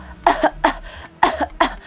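Four sharp coughs in two quick pairs, close and loud, with no talking.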